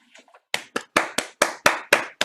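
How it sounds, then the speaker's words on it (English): Participants in an online meeting clap with about seven or eight sharp, close hand claps in a steady rhythm, preceded by faint scattered taps and murmurs. "Guys, you can unmute and clap."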